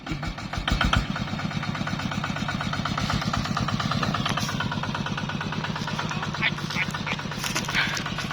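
A Mitsubishi Pajero engine, one fitted with a low-range gearbox and one with a two-speed transfer case, revs and pulls away from a standstill. A loud rhythmic mid-pitched engine drone rises and holds steady, close by.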